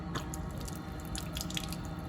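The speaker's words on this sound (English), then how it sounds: "Just turn that way to open the drain" Wastewater from a motorhome's sink and shower runs out through an opened drain tap under the vehicle, a steady close splashing trickle with faint drips over about two seconds, no voices.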